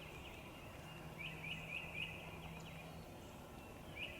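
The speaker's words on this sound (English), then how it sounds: "I just heard the faintest gobble." Wild turkey gobbling far off in Ohio woods, a rapid burst of faint rattling gobbles around the middle and another brief one at the end, over steady outdoor background noise.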